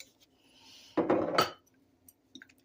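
A lid is set back onto a jar of minced garlic in a kitchen, making a short cluster of close clinks and rattles lasting about half a second, followed by a faint small tap.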